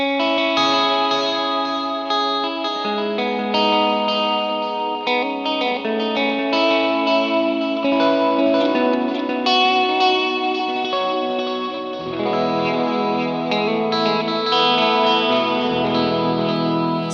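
An electric guitar played with both pickups selected on the middle switch position, run through a delay effect, rings out in sustained chords and notes with echoing repeats, loud and continuous with no speech.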